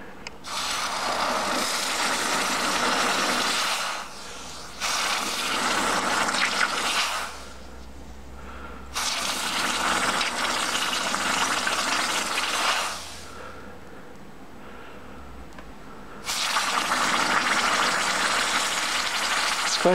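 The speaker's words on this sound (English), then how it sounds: "Now quench it in the water." Hot forged steel part quenched in water at an anvil, giving a sustained hiss and sizzle that comes in several long surges with short gaps between them, fairly close and with no talking.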